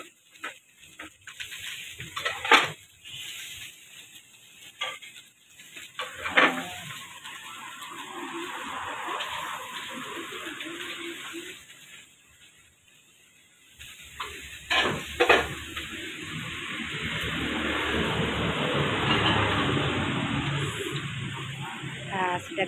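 Fried rice with meatballs and egg sizzles in a pan at a street food stall while it is stirred, scraping in bursts over a steady hiss, with voices talking throughout.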